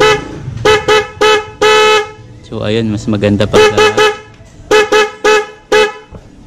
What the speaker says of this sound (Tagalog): So dual horn na yung kinabit natin.